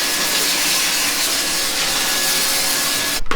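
A multi-function cleaning machine, the kind that runs aroma oil, disinfects a toilet with a loud, steady, broadband roar of rushing air or steam. The noise holds constant for about three seconds and then cuts off abruptly, with a brief clatter.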